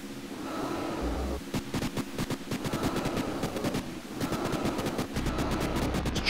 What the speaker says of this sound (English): Let's go for the flamethrower